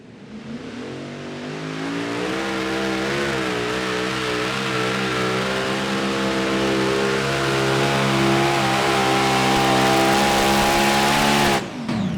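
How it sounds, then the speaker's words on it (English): A super modified pulling tractor's engine screams at high revs throughout a pull, loud and sustained with rising pitch, then cuts off abruptly at the end as the engine blows. "banged an engine right at the very end"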